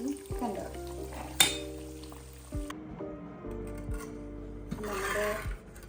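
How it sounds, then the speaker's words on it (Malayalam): Herbal hair oil simmering in a pan sizzles softly while being stirred without touching it by hand, with a sharp clink from the stirring utensil partway through and a brief low voice. "കുറച്ച് നേരമായിട്ട് ഞാൻ കൈയിടാതെ ഇളക്കുന്നുണ്ട് അടുക്കി പിടിക്കാതിരിക്കാനായിട്ട്"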